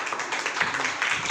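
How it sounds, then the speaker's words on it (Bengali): A classroom applauds student Rahul with a short burst of quick, dense clapping from several hands. It sounds close and moderately loud. "এই রাহুলের জন্য একটা হাততালি।"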